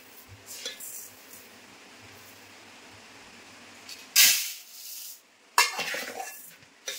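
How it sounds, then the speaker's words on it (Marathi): Old ration rice is scooped and measured out with a drinking glass, giving a few sharp gritty rattling pours and clinks against a quiet background, with no talking. "हे तांदूळ ना मी आता या ग्लासाने 3 ग्लास घेणार आहे"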